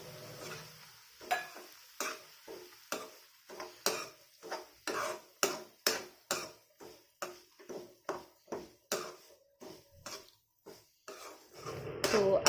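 Dry semolina being roasted in a tiffin for Himachali kadhu (redu) halwa, stirred with steady, rhythmic scraping strokes that repeat about twenty times, close and distinct with quiet gaps between.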